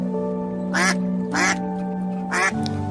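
A cartoon duck gives three loud, close, nasal quacks in quick succession over a steady tonal music bed, with a short pause before the final quack.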